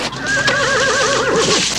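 A horse neighs loudly and close by, a single long wavering whinny that rises and falls before trailing off.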